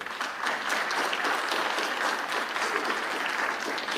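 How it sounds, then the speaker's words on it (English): Sustained applause from an audience, steady clapping throughout with no pauses, fairly loud and close. "One more round of applause for all of you."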